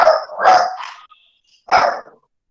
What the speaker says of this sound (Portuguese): Peraí, meu cachorro, ó.